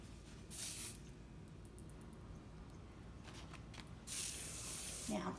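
Hairspray misted onto a sew-in updo to smooth down flyaway hairs, giving two soft hissing bursts close by with a quiet stretch between them.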